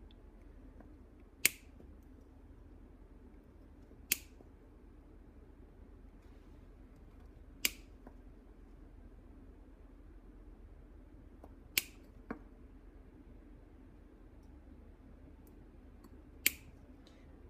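Short solder wire being snipped into little pieces, giving a handful of sharp, isolated clicks spaced a few seconds apart against a quiet, faint background hum.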